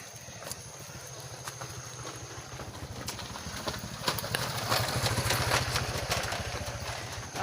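Motorcycle engine idling nearby, a steady low putter with fast regular pulses that grow a little louder midway, with occasional sharp clicks in the background.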